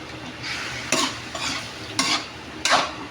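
Chili, garlic and onion sautéing in a pan for spicy adobo, a steady close sizzle broken by three or four sharp bursts of stirring and scraping, with no talking.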